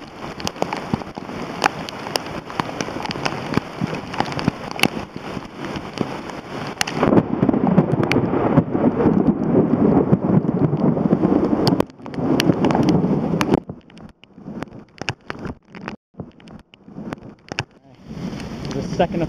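Heavy rain with a brief burst of hail pelting down during a July hike down Mount Mansfield in Underhill, Vermont, a dense close hiss with sharp drop impacts and wind gusts, and talking beneath it.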